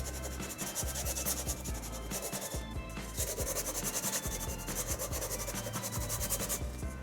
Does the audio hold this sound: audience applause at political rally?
no